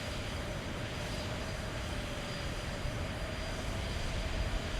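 Steady, loud airliner engine drone with broadband rushing noise during a landing in Microsoft Flight Simulator X, a continuous roar with no talk over it.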